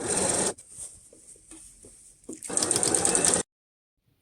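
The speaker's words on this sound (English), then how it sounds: "I sometimes wish I could really sew this fast." A sewing machine stitches elastic into the sleeve of a spring dress made from tablecloths. It runs in two fast, close bursts, with a quieter pause of small handling clicks between them, then stops to silence.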